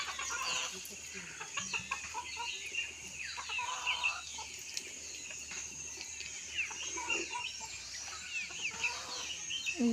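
Several chickens cluck and squawk on a rural homestead, with a rooster now and then, a steady busy chorus mixed with outdoor ambience and faint background talk.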